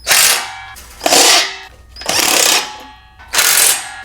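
A power tool with a 10mm socket runs in four loud whirring bursts with short gaps, tightening nuts on trailer tail lights and side markers.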